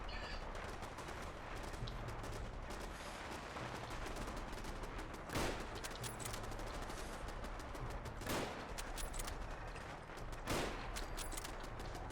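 Gunfire in the video game Fallout 4 during a fight with gunners, heard as a dense, noisy battle bed with a few sharper shot cracks standing out at irregular moments.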